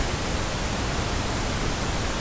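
Steady broadband test noise played into a mixer, a constant even hiss with no variation, loud and alone.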